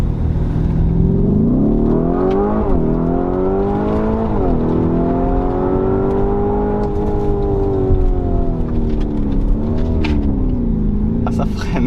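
A heavy supercar runs a warm-up lap at a crowded supercar event. A loud engine drones and surges through several gear changes, then falls away as the car brakes. Spectators talk over the engine noise the whole time.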